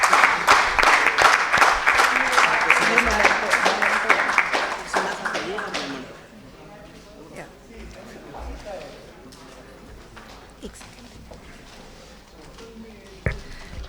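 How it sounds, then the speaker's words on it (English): Applause at a corporate social responsibility awards ceremony in India rises for an honoree, a loud burst of many hands that cuts off after about six seconds, leaving quiet room noise with a few stray taps. "Can we have a huge round of applause for Shri Shalini Rajneesh?"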